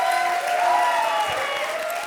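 An audience at a comedy show breaks into loud, sustained clapping, a dense wash of applause that fills the room, with a voice faintly heard above it.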